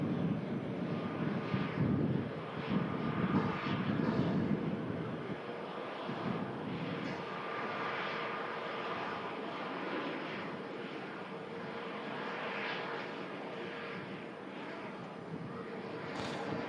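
An Airbus A321neo XLR arriving at Manchester Airport produces a continuous broad jet roar at a middling distance, swelling early then settling into a steady rushing hum with some wind buffeting.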